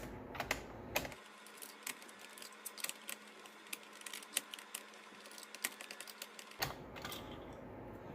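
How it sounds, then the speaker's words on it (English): A Phillips screwdriver backs out four screws holding a two-piece trim cover near the ignition cylinder of a 1994–97 Subaru Legacy. Close, quiet clicks and ticks sound in irregular runs, with handling rustle before and after. "So we're gonna take out the 4 screws. Just use Phillips screwdriver."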